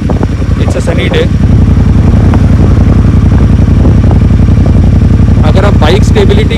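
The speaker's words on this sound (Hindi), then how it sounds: "you can just start the bike and give it the acceleration" A Triumph Thunderbird Storm 1700cc motorcycle engine runs with a loud, rhythmic low throb, pulsing steadily throughout with some clattering and someone talking over it.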